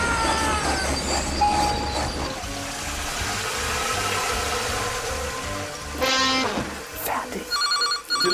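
A telephone rings in short electronic bursts near the end, after a stretch of rumbling, clattering background noise.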